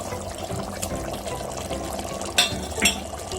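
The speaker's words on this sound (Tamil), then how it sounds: "இப்போ நல்லா கொதி வந்துருச்சு." Kambu (pearl millet) biryani water boiling in a pot on the stove: steady, fizzy bubbling throughout, with a couple of brief clinks near the end.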